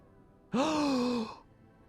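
Cat in the video game Lies of P giving a single drawn-out meow, a clear tonal cry lasting under a second that starts abruptly and fades, alone against quiet background.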